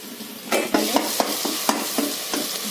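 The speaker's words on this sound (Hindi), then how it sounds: "भून रहे हैं हम इसमें हल्दी ऐड करेंगे" Chopped jackfruit stir-fried in a pan, with a steady sizzle broken by a series of sharp spoon scrapes and stirring knocks, close and clear with no voices.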